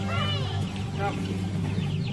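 Chickens cluck at a petting zoo in Gunung Lang, Perak, several short calls rising over a steady low hum, with people talking nearby.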